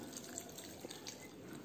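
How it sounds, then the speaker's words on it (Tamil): Water trickling and dripping as it is added to maida appam batter in a home kitchen, quiet splashes and drips close by with no talk. "இது கூட தண்ணி சேர்த்துக்கலாம்"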